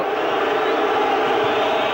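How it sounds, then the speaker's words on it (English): A stadium crowd roars in a steady, loud wash during a riot in the West Stand of Lansdowne Road during a football match. "Well, there's trouble in the crowd."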